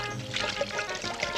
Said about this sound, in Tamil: ஊத்த தண்ணி